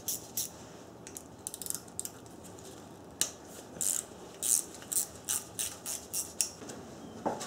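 A ratchet wrench loosens a 10 mm bolt fixed to an engine's cylinder head during teardown, giving close, sharp clicking in uneven bursts that quicken toward the end.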